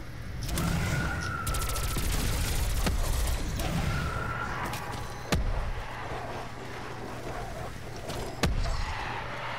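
Gunfire in a Call of Duty game: rapid automatic fire in the first few seconds, then a steady ambient rumble broken by a few sharp single shots, loud and close.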